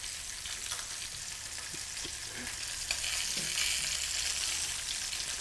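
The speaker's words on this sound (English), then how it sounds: "So while Mr. King's browning off, I'll get on my veggies." Steady sizzling and frying of meat browning in a pan, a continuous hiss with occasional soft scraping and clinks, no talking.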